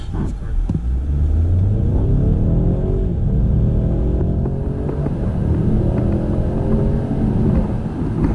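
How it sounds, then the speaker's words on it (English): A 2018 Ford Mustang EcoBoost accelerates hard from a standstill toward 60 mph, its engine rumble loud and sustained from inside the cabin, rising through gears with a steady drone and no talk. "Let's just do a quick little 0 to 60 and see what it does."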